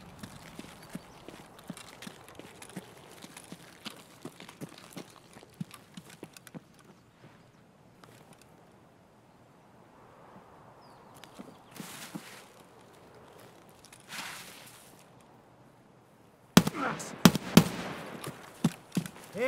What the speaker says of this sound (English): They added a new footstep sound for like walking on the plastic flooring.